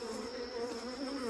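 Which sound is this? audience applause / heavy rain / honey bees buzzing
honey bees buzzing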